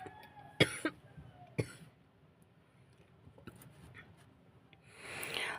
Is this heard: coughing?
yes